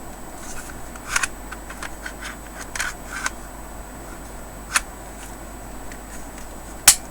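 A toy FNS-9 pistol assembly kit, with the plastic slide being pushed onto the frame. A few sharp, quiet plastic clicks and snaps sound at scattered moments over a faint background, with one crisp final click near the end.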